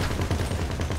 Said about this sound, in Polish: Chcę rozstrzelać to auto